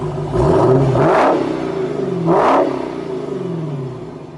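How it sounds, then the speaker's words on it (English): Two loud engine revs from a 2016 Dodge Challenger SRT Hellcat, each a deep roaring surge that climbs and falls away, close by, with the idle rumbling between them. "We're gonna give you a couple of revs right now."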